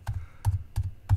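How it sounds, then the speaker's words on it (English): Computer keyboard being typed on, four distinct keystrokes about a third of a second apart, close and crisp with no voice over them. "now let me type"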